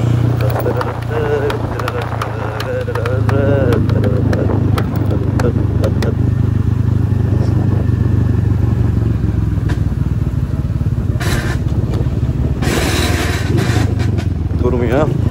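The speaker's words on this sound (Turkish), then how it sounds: "Atalım dörde gitsin motor." A Kuba CG 100 R Gold motorcycle engine runs in fourth gear, a steady loud drone with rattling and clatter, while people talk over it throughout.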